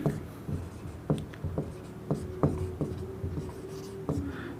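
Chalk or marker writing an equation on a board during a class 10 maths lesson, heard as a series of sharp taps and short scratchy strokes in an uneven rhythm, close and fairly quiet with no talking.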